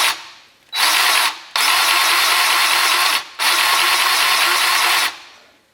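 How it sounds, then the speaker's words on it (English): A grease gun pumps grease into the mid axle suspension bushings of a 2004 Polaris Ranger 6x6, giving three loud, steady bursts of harsh mechanical whirring separated by short pauses, close up. "put my grease gun on that"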